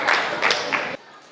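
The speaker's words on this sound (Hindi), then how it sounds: "तो इनके लिए विशेष रूप से आप तालियां बजा दीजिए।" Audience clapping at a Hindi comic poetry recitation, a short burst of applause in a hall that cuts off abruptly, with no voices over it.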